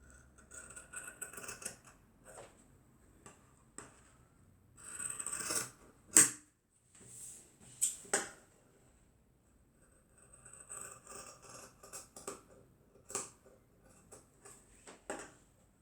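Scissors snip through tote bag fabric in a series of close, crisp cuts and clicks, spaced unevenly with quiet pauses between bursts.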